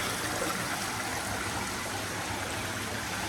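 Water trickles and babbles in small outdoor ponds at a Japanese bathhouse, a continuous close splashing with no talk.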